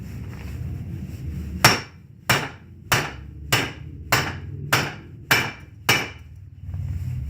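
A flat hammer strikes a U-joint on a 1996 Chevy Blazer eight times in a steady, evenly spaced rhythm, each blow sharp and close, over a low background hum.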